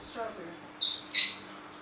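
A bird gives two short, sharp squawks close by, following faint talk in the background.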